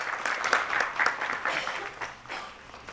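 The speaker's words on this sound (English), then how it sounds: "Give a heavy round of applause for them." Audience applause at a medical conference, a short burst of clapping with distinct individual claps audible, fading slightly toward the end.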